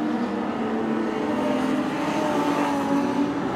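Super street sedan race cars in a heat race at Cairns Speedway, a loud continuous engine roar from several cars droning steadily as they race down the straight, with no clear voices.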